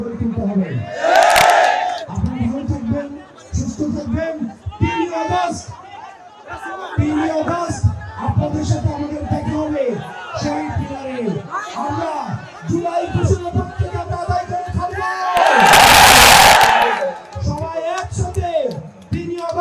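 Crowd at a political rally chanting slogans in call-and-response bursts, a leader's shouted lines answered by many voices in rhythmic unison, with loud swells of massed cheering near the start and end.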